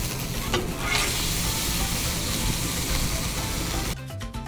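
Peppers sizzling on a hot fajita plate, a loud, continuous close sizzle that cuts off abruptly near the end.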